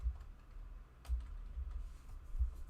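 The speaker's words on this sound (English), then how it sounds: "You end up typing them in there." Soft, faint clicking of keys on a computer keyboard, irregular taps spread over a couple of seconds in a quiet room.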